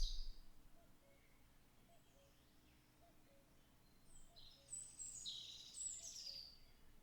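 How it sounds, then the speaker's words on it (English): Recorded real birds singing, played back as a canned backdrop: faint high chirps and trills over a low steady hum, quiet at first and growing busier and louder toward the end, with no talking. "They're real birds that were recorded."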